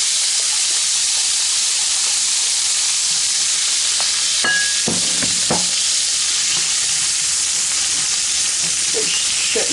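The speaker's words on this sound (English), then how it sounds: "take the veggies and add the veggies in here and cook them until they're tender" Vegetables sizzle steadily in a hot pan with butter for a ranch-style noodle and Italian sausage dish, a constant bright frying hiss with a few soft stirring knocks partway through.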